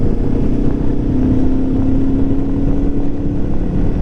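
A Lifan KPT 400cc motorcycle engine drones steadily while riding, with a constant close hum, one tone rising slightly, and rushing wind noise throughout.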